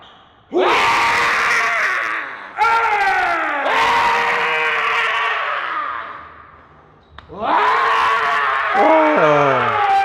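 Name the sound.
strongman yelling while lifting heavy weight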